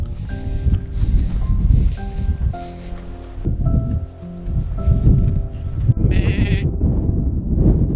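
Several sheep bleat repeatedly on a Welsh mountainside, their wavering calls overlapping in a loud, steady chorus against a rustling outdoor background with no talk.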